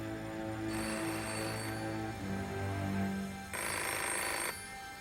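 A telephone rings in two loud bursts inside a home, the bell tone carrying over a low ambient hum with a pause between rings.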